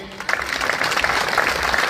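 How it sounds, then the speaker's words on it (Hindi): A crowd at a BJP political rally in Kumawas village applauds, a dense, continuous burst of clapping that holds loud and steady throughout. "ऐसे सम्मानित हमारे नरेंद्र भाई मोदी जी के लिए एक बार जोर से ताली बजाइए"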